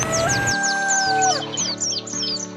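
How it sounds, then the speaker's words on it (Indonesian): A rooster crows in a rural Javanese village at dawn, loud and close, with a long drawn-out call. High chirping birds run over it at first, then a steady tonal bed continues. "tiba-tiba terdengar ayam jantan berkokok"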